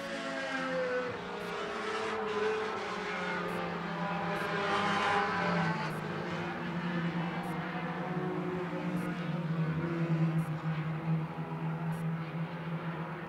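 Race cars roar steadily around a concrete oval at Sweatt's Concrete Thunder, a continuous loud engine drone with pitch shifting as cars sweep past, sustained throughout without any talk.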